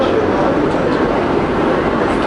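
A train running in Europe, heard as a steady, broad rumbling roar that holds evenly for a couple of seconds without any clear pauses.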